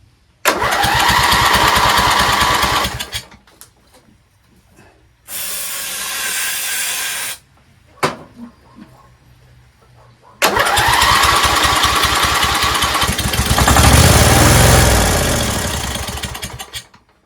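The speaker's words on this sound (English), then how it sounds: "the engine runs and it seems like it runs pretty smooth" Small gasoline engine of a Craftsman LT1000 lawn tractor running loud and close, in three bursts separated by near-silent gaps and brief clicks, a steady roar with a throttle swell near the end.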